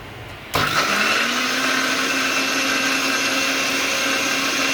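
A kitchen mixer grinder switches on abruptly and grinds soaked dal and rice into appe batter, giving a loud, steady, high motor whine that holds evenly to the end.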